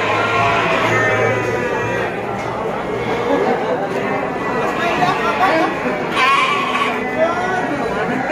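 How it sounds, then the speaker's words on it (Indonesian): Garut sheep, including fighting-type rams, bleat repeatedly at a busy Tanjungsari livestock market, overlapping calls near and farther off over a steady crowd murmur and people chatting. "Domba Garut, domba tangkas banyak di sini."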